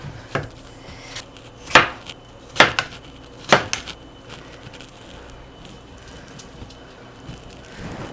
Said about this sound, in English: I'm going to slice these bad boys.